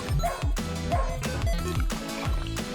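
Cartoon-style dog barks and yips from a video game about being adopted by a Pianosaurus, several short calls in quick succession over steady game music.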